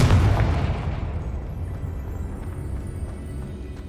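A Confringo spell explodes in Hogwarts Legacy with a loud, deep blast at the start that rolls off into a long, fading low rumble, heard alone.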